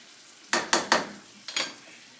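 Ground hamburger meat in a pan on a just-switched-off burner, heard as a few short scraping, stirring strokes with sizzling: three quick passes, a pause, then two more, fairly close and alone.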